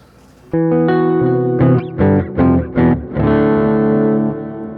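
An electric guitar played through a Donner Pocket Go with heavy reverb: a sustained chord rings out, then several short strummed chords, then another long chord decaying in a wash of ambient tail.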